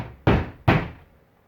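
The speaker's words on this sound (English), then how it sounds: "So Dave knocks again, louder." Two sharp knocks on a wooden shack door, close and loud, about half a second apart, each with a short boomy decay into quiet.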